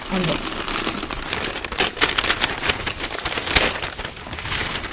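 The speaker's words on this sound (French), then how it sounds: "Alors, on ouvre ça ensemble. Donc, c'est tout bien emballé." Paper and plastic wrapping on a package crinkle and tear in bursts as it is opened, with someone talking over it.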